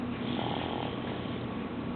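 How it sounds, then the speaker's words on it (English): A sleeping child snores softly and steadily nearby, a low continuous breathing rasp with no talking. "snoring"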